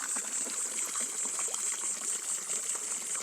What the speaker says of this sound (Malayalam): സംഭാവന തന്ന കൽത്തൊട്ടിയിലാണ് വെള്ളം കൊടുത്തുകൊണ്ടിരിക്കുന്നത്